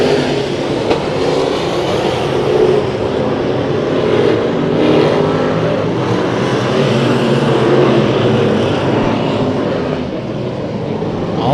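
Race cars in a heat race at Santa Maria roar steadily past, a loud, dense wall of engine noise that holds throughout without a break.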